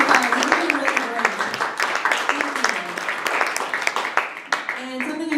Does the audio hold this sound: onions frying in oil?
no